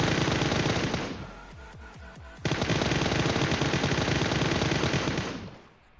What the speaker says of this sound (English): there's just shooting all around me right now